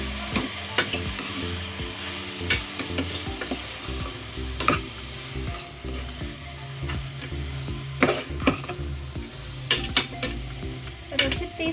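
A dal and spinach mixture is stirred in a pan with a spoon, giving repeated scraping and clinking strokes over a steady background sizzle, close and alone without any talk.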